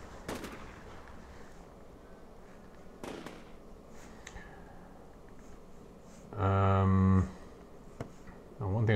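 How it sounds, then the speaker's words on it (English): Gunfire in the Combat Mission Black Sea game: a few scattered sharp reports are followed by a loud, sustained rattling burst near the end, with no talking. "Okay, nothing for it. I guess we're gonna start shooting."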